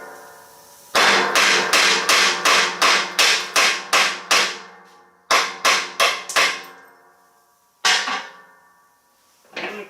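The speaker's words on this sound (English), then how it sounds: "I need a little hammer." A small hammer strikes the steel cutting edge of a big plow in a fast run of about a dozen sharp metallic blows, then a shorter burst of four, and a few more isolated hits, close and loud.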